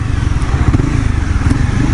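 A motorcycle engine runs with light, half throttle, a loud, close, low chugging rumble that pulses steadily throughout with no talk.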